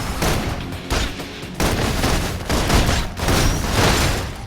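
Dense suppression gunfire in the game Love and DeepSpace, a continuous loud barrage of rapid shots and booms with brief gaps, no voices over it.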